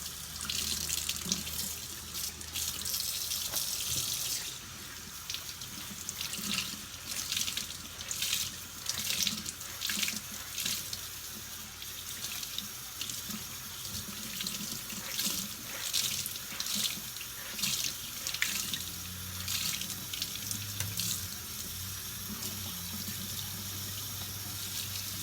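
Dyed fabric is rinsed under a kitchen tap, giving a steady rush of running water with shifting splashes as the cloth moves through the stream, and no talking.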